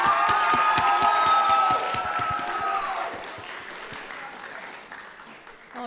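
An audience at a Grade 9 Youth and Philanthropy Initiative event at Brentwood College School claps and cheers, a dense patter with voices over it, loud at first and gradually fading.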